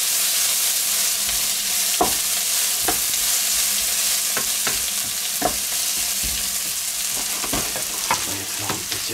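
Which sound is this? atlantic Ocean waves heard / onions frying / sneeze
onions frying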